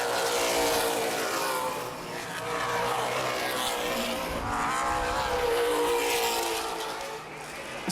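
Late model race cars roar around the oval at Baer Field Speedway in a Great Lakes Outlaw Late Model Series 100, engines swelling and fading as they pass, with distant crowd and track ambience.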